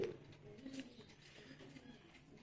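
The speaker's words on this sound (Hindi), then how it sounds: "ये कबूतर है," Soft, low pigeon coos murmur near the start, faint against a quiet background with some rustling.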